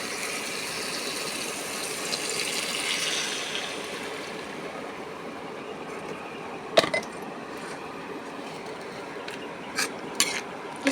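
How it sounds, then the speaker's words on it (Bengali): Coconut milk poured into a pineapple achari curry in a pan, a steady soft liquid rush that fades after a few seconds, with a few brief clinks near the end and no talking. "এবার দিয়ে দেবো নারকেলের দুধ।"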